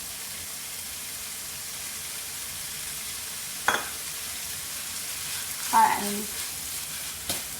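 Chopped celery or parsley stir-fries in a pan, giving a steady, close sizzle with a few scraping stirs and clinks. Someone speaks briefly over the frying.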